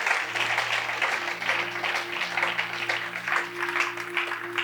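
A church congregation claps and acclaims the Lord at a Sunday service on the first Sunday of January, steady broadband applause and cheering throughout with a sustained organ or keyboard chord underneath.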